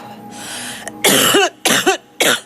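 A hiss of inhaled breath, then three harsh, loud coughs in quick succession, close to the microphone.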